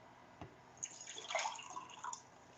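Cold water poured into a glass at home: a soft splash, then a brief trickling, bubbling fill lasting about two seconds, quiet and close.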